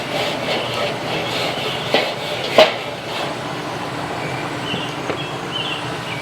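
A smoker's grill grate is scrubbed with a brush, giving a series of scraping strokes and a couple of sharp metallic clanks, moderately close.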